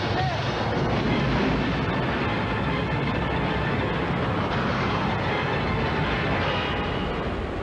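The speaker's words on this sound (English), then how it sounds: "that train sitting up there is going to take off" A train pulling away rumbles and roars continuously with dense, heavy mechanical noise, loud and steady throughout.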